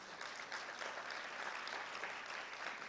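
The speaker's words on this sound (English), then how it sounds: "So could you just applaud yourselves," Audience clapping at a Hall of Distinction induction ceremony, a dense, even wash of many hands that holds steady throughout, heard from a distance and fairly quiet.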